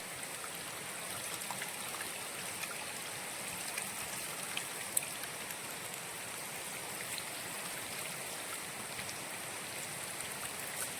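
Water from the Nazarmata waterfall near Shivrajpur streams and trickles steadily through a leaf filter weighted with a stone, a continuous close, even hiss with no talk over it.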